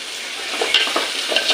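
Tomatoes frying in a pan for green sundaikai kulambu, a steady close sizzle with soft stirring scrapes and a few brief crackles.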